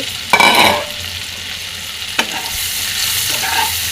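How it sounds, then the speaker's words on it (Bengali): Small unpeeled shrimp fry with chopped onion in hot oil, giving a steady sizzle broken by a couple of brief scraping stirs of the pan, close up with no talking. "আবারও কিছুক্ষণ ভেজে নেবেন"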